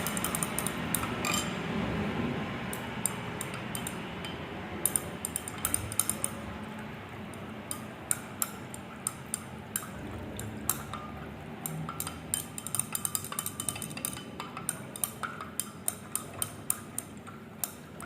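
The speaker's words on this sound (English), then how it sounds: "we have to continuously stir the reaction mixture" A triphenylimidazole reaction mixture being stirred in a glass beaker after ammonium hydroxide is added, giving a continuous rapid series of light glassy ticks and clinks over a low steady background.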